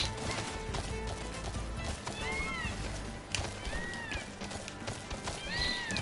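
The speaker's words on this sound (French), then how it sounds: "il veut pas galoper" Galloping horse mount in the video game Final Fantasy XV, rhythmic clip-clop hoofbeats with occasional whinnies over game music, fairly quiet and steady.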